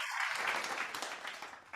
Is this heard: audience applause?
yes